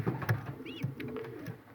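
Pigeons coo softly in a few short, repeated rounds, close by, with faint chirps mixed in and no talking.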